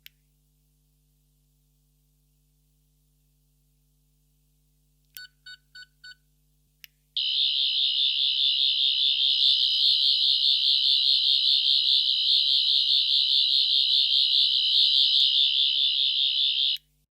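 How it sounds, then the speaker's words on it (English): A 14th Doctor's sonic screwdriver toy gives a few short, quick beeps, then breaks into a loud continuous warbling electronic whine that runs unbroken for about ten seconds in an otherwise silent room. "If done correctly, you will hear 4 confirmatory beeps, and the Sonic will now be red and make the same sound as the green setting."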